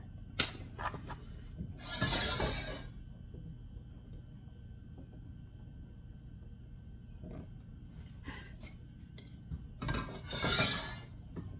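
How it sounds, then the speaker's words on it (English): A metal paella pan handled on a stovetop, giving a few faint clanks and scraping rattles spread out over quiet kitchen background. "I have to use my paella pan."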